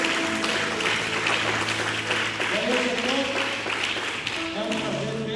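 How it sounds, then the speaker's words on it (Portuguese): A church congregation claps in sustained applause, with talking and musical tones running over it throughout. "Se essas palmas foi para o Felipe, está ótimo"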